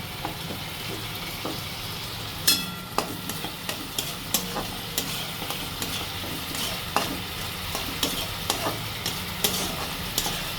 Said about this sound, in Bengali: নারকেল কোড়াটা দিয়ে ভালো করে নাড়বো